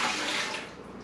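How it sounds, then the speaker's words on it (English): Four cups of white vinegar poured from a container into a pan while making pickled beets, a steady rushing splash that tapers off toward the end, close and alone. "I've got 4 cups of my white vinegar that I'm going to dump"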